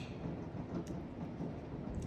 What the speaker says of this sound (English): Ooh, did you hear that thunder?